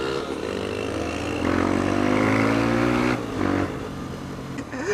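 A 125cc motorcycle engine revs up and holds a strained, rising tone for a couple of seconds, then drops back to a steady idle, heard close and loud.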